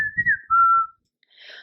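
A short whistled tune of a few sliding notes follows brief murmured speech, with a faint hiss at the end.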